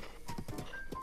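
Horse hooves clip-clop in The Legend of Zelda: Breath of the Wild, a quick run of soft, muffled footfalls at low volume.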